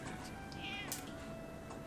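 A cat meows inside the video game Baldur's Gate 3, a single drawn-out mew rising and falling over a steady ambient game hum, faint and without talking.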